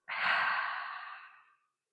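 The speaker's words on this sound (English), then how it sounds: "One more deep breath all the way down to your toes. And a full exhale out." A single deep, full exhale during a Halloween yoga session, a long breathy sigh up close that fades out after about a second and a half.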